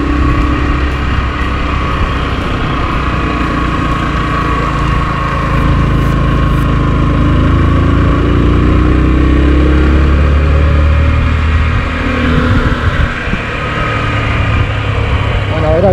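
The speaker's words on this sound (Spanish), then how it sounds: "Está en tercera la moto y no puede." A motorcycle in third gear labors loudly and continuously on a hill road at Villa Serrana, Lavalleja, Uruguay, its engine droning and straining close to the microphone with heavy rumble throughout.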